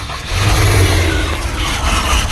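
An old purple van's engine cranks and catches, revving unevenly and running rough, a loud close mechanical drone that swells and wavers without settling into a steady idle.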